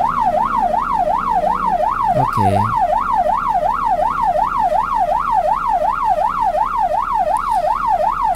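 Ambulance siren on a Malaysian road, a loud, steady rapid wail sweeping up and down without pause, with a brief low rumble of passing traffic partway through and a single short spoken word.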